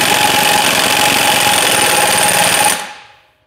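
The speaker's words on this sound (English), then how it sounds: "Piston nut back on, and then we tighten it down." A power tool, likely an impact wrench, runs loud and steady for nearly three seconds while tightening a piston nut onto a rod for a hydraulic cylinder with an aluminum gland, then cuts off and winds down.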